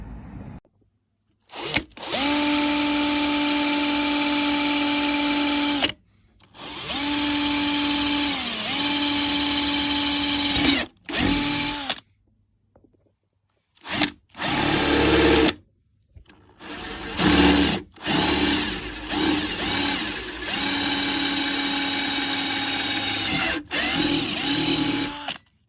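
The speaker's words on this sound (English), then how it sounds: "So let's drill through this first," A power drill bores a hole through the body of a Lexus CT200h for a camera cable, whining loudly in long bursts that rise and dip in pitch under load, broken by short pauses and stop-start runs.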